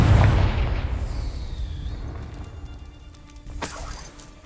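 A Confringo blasting spell in a video game sets off a deep, booming explosion that fades into rumbling debris, followed a few seconds later by a sharper secondary crack.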